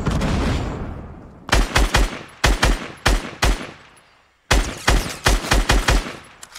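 Rapid bursts of gunfire in Fortnite, with loud, close shots fired in clusters of several cracks separated by brief pauses, followed by a short quiet gap before another volley.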